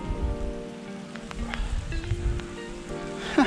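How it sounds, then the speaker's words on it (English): Heavy rain pours steadily onto a riverbank during a pike fishing trip, a dense continuous hiss with spattering drops, fairly close, with no talk. "It's chucking it down."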